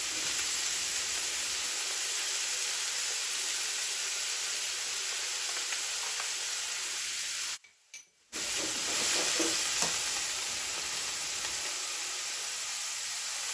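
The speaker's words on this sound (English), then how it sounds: "I'm going to add in my celery leaves." Celery leaves dropped into a pan of Guyanese veggie chow mein, a steady broadband sizzle and hiss with stirring scrapes, briefly cut off before resuming.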